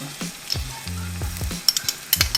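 Garlic and ginger sizzle in hot cooking oil for a sausage stir-fry, a steady close frying hiss broken by soft stirring scrapes and a few light clinks of a utensil against the pan.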